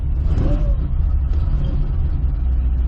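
A 2005 Chevrolet Corvette engine idles roughly with a low, uneven rumble, loud and close, continuing without pause.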